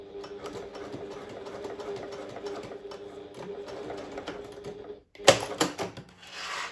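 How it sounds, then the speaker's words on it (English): Hand-cranked sewing machine stitching across a zip's metal teeth, a steady mechanical whir of stitches running for several seconds, then a brief pause and a sharper burst of clatter near the end, close and alone. "I hand cranked the machine across there"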